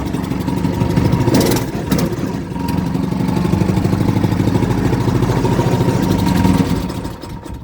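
A small engine, with its choke cable removed, runs steadily after starting, a loud, even idle with rhythmic low chugging and a couple of brief sharper bursts early on.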